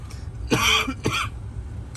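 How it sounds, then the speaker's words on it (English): Two quick, close coughs in a row, harsh and throaty, over a low steady background hum. "I have a little cough right here"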